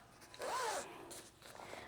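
A zipper slides open along the back of a bag, one quick, close zip lasting under half a second, followed by faint handling rustles, with no voices.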